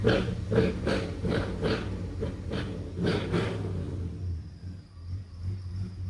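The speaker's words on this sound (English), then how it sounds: "Car sounds great, looks great, sounds great, runs great." A 1957 Chevrolet Bel Air with a 350 V8 and four-speed manual idles close by in a low, steady rumble, with a series of rhythmic pulses early on that fade to a quieter idle.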